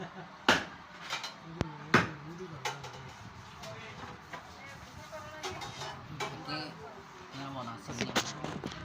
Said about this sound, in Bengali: আমি এখন শরবত বানাচ্ছি